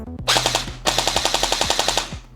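A Sijun MP5 electric gel blaster fires on full auto: a few quick shots, a short pause, then a steady, moderately paced burst of loud, evenly spaced cracks, with mechanical whirring between them.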